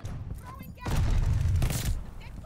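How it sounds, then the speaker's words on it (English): Bombing-run explosions in a Call of Duty match burst out as a loud, dense, rumbling barrage lasting about a second, then fade into fainter blasts and game noise. "Oh, we got a bombing run."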